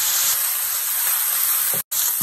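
Onions hitting a hot pan over medium heat for butter chicken, a steady bright sizzling hiss that continues evenly with a brief cut near the end.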